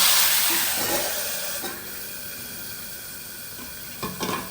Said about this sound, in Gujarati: ટામેટા એડ કરીએ.